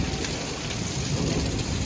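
Heavy stormy rain pours down in a loud, dense, unbroken roar with a low rumble of thunder beneath it, and no voices over it.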